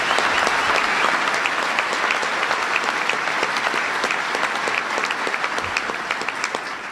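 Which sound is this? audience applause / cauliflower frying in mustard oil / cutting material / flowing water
audience applause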